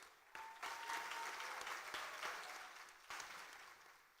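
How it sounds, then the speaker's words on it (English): A conference audience at an early-morning plenary session applauds in a sustained burst of dense clapping, moderately distant and steady for about four seconds, rising slightly before tapering off. "I believe that this deserves a huge round of applause"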